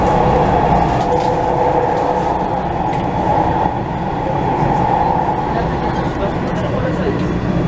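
Dubai Metro train running, a loud continuous rumble and rolling drone heard from inside the carriage, steady throughout with a faint background murmur.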